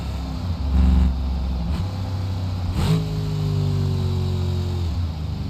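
A car engine downshifts: steady mid-range engine tones, a sharp rev blip partway through, then a settling, gradually falling engine pitch. The engine is close and fairly loud, with no voices.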